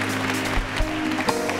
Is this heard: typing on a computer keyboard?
no